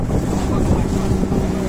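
Strong wind roars steadily across a shrimp trawler off Barra de Santos, a loud, continuous broadband rush with deep low rumble from the boat and water, no voices.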